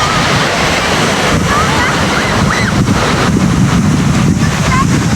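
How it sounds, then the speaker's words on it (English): Steady sea wind and surf roll continuously outdoors by the coast, loud and broadband with gusty rumble buffeting the microphone, while faint chirpy bird-like calls drift in the background. "Glad there's a sea breeze coming through here."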